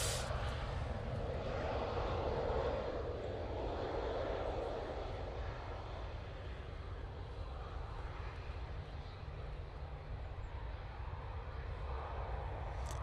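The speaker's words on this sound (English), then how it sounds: "Taking a very slow taxi there in order to get out." Airliner taxiing slowly at Manchester Airport, a steady loud jet engine rumble and broad roar heard from nearby that holds evenly throughout.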